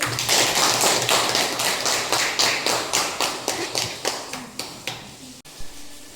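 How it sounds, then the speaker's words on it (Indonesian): Classroom applause for a student who answered a teacher's question comes as a run of steady, rhythmic claps in unison, about a dozen even beats that fade and break off near the end. "tepuk tangan untuk Ananda yang sudah menjawab pertanyaan dari Ibu"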